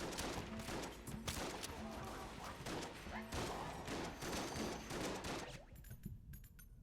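The Chamber Gun in Enter the Gungeon fires fast, dense bursts of game gunfire with rapid repeated shots and impacts that fill most of the stretch, then thin out near the end.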